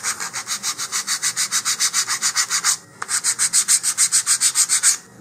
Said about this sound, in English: rotating both the fin and the sanding block to round that off.